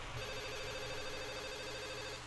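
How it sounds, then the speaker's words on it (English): A mobile phone in the Katawa Shoujo video game rings with a soft, steady repeating trill that holds a constant pattern over the game's background hum, with no one talking. "A familiar soft ringing begins to sound from Lily's side"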